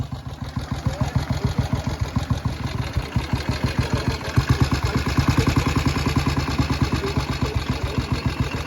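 A classic Norton International motorcycle engine running at a classic vehicle meet, a steady loud thumping idle with a regular rapid beat close to the microphone.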